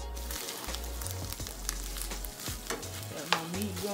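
Meat for vegan tacos frying in a pan, a close sizzle with intermittent scraping and stirring noises, fairly quiet and continuous, without speech.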